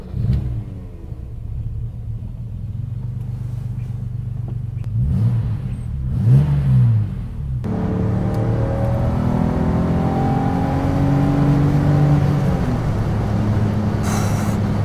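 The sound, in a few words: BMW car engine revving, then accelerator released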